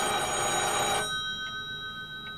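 An old telephone bell rings steadily and loudly for about a second and then cuts off, leaving a faint hum and some quiet room noise, in a 1980s Swedish crime drama.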